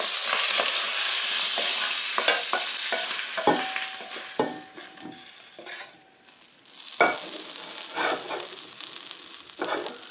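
Crawfish jambalaya sizzles steadily in a hot oiled pan, a dense continuous frying hiss broken by repeated scraping stirs, close and fairly loud, with no voices.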